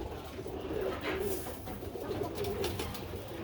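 Birmingham Roller kit pigeons cooing softly in a loft, repeated low throaty coos layered under a steady background hiss, fairly close and continuous.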